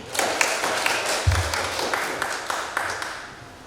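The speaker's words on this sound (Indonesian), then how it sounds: "Mari tepuk tangan yang meriah" Audience clapping at a school positive-culture dissemination session, a steady run of quick, fairly close claps from a modest group filling the room for a few seconds.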